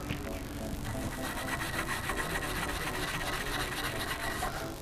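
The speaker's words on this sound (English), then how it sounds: "just get right in there, right in the pipes, and just give them a good old scrubbing" Brisk, rasping scrubbing works inside the carbon-fouled tailpipes of a Ford Focus ST, a dense, continuous back-and-forth rubbing that stays close and steady throughout.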